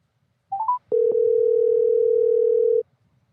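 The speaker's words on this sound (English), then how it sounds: "is that my phone or your phone?" A steady telephone dial tone sounds loud and close, holding for about two seconds right after a short rising run of beeps, with no talk over it.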